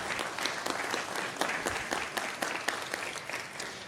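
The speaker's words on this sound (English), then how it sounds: "If we could get a round of applause for the sponsors" An audience at a tech forum on the state of cybersecurity applauds its sponsors, a steady wash of many hands clapping at moderate volume with dense, continuous claps throughout and no talk.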